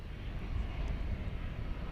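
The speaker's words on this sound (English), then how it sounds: "an American Eagle plane" An American Eagle plane arriving at DFW Airport at night makes a steady low jet engine rumble, moderately distant and fairly faint, with no talking.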